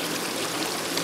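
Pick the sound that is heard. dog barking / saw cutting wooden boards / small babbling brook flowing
small babbling brook flowing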